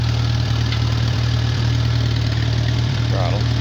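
A Farmall Cub tractor engine runs, choked, with a loud, close, steady low chugging pulse and brief periodic dips, while a voice speaks faintly beneath it.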